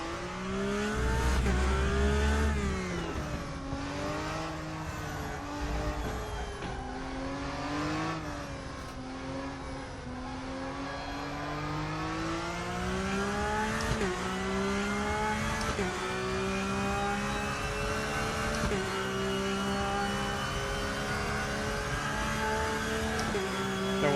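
Race car engine in RaceRoom Racing Experience, revving steadily and climbing through quick successive gear shifts, the pitch dropping at each change before rising again, loud and continuous throughout.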